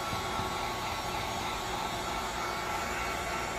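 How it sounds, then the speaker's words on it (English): A heat gun runs on high heat with a steady, close, unbroken rushing blower hiss that keeps an even loudness throughout. "Break out a heat gun."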